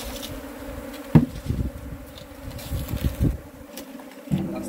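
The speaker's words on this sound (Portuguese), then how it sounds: "Bastante abelha vai estar voando agora ainda" A swarm of bees captured in a shed, with a steady close droning hum and a few dull knocks over it, and no voices.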